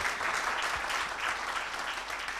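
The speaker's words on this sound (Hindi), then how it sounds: "जोरदार तालियां एक बार रवि यादव जी के लिए हो जाएं" An audience at a Hindi and Urdu poetry gathering claps steadily and loudly, a dense wash of applause that holds for a couple of seconds.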